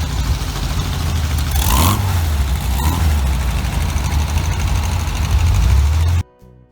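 Volkswagen car engines rumble steadily nearby as a group of vehicles pulls away from Hillarys Boat Harbour, with a brief rising rev in the middle before the sound cuts off abruptly.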